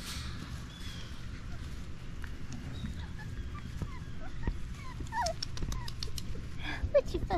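Puppies whimper and yip in short, high squeaks, scattered and fairly faint over a low background rumble, growing busier toward the end.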